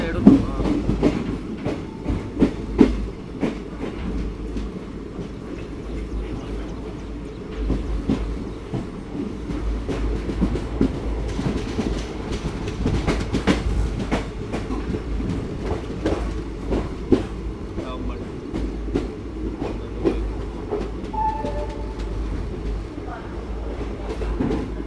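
The 17022 Vasco da Gama–Hyderabad Weekly Express runs along the line toward Madgaon Junction in Goa, wheels rumbling and clacking over rail joints in a steady onboard roar, with occasional sharper knocks and faint voices in the carriage.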